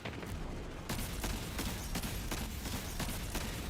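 Rocket launcher fire in Destiny 2 during a solo Grandmaster Nightfall, Warden of Nothing: dense, sustained gunfire and explosive blasts fill the space continuously, with sharp bursts recurring roughly every half second and no voices.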